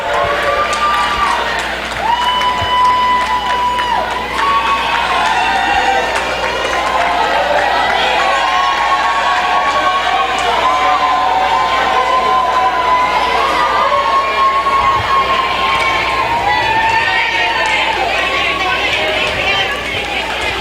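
Crowd cheering and clapping at a roller derby bout as a team is introduced, a loud, continuous roar of voices and applause with shouts rising over it throughout.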